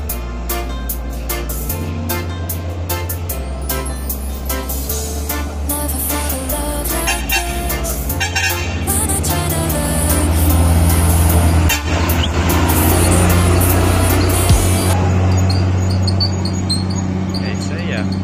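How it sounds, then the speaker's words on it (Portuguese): Volvo VM truck pulling away, a loud diesel engine rumbling and building as it moves off, with air brake hiss and a short toot, people talking excitedly over it. "Ali o VMzão saindo."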